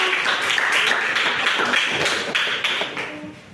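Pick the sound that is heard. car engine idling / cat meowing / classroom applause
classroom applause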